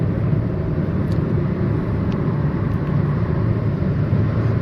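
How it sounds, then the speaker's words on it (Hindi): A car, an XL6 CNG, driving through the Kamshet tunnel on the Panvel to Pune road, a loud, steady, enclosed engine and road rumble heard from inside the cabin, with no talking. "So now we are in Kamshet tunnel."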